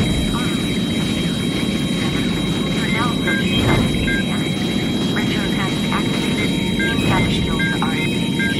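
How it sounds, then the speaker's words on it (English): A helicopter flies by in a 1995 action film scene, its steady engine and rotor roar loud and unbroken throughout, with faint chirping radio-like tones over it. "It's the chopper."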